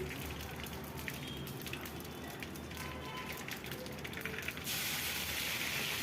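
Curry leaves, cumin and sesame sizzle and crackle in hot oil, a close, steady spattering hiss that grows denser near the end.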